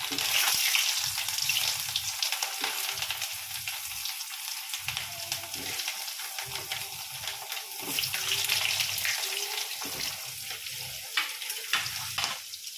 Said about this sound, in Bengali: এই যে আলুগুলো নিয়ে নিয়েছি, এখন দিচ্ছি। গরম হয়ে গেছে তেলটা।